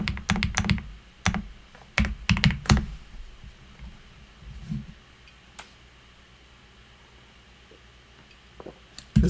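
Computer keyboard clattering in quick bursts of keystrokes, close and crisp, with pauses between flurries and no talk.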